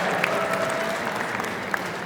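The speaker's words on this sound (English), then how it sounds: "Huge round of applause." A holiday party audience gives a sustained round of applause for people on stage, moderately loud and even, with a couple of sharper claps standing out.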